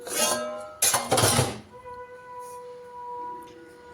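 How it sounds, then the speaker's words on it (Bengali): Dishes being washed by hand at home: two quick bursts of clattering pots and plates, followed by softer clinks and lingering metallic ringing, with no talking. "সেই জন্য অল্প একটু বাসন ধুয়ে নিই"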